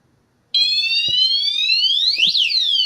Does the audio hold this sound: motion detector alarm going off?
yes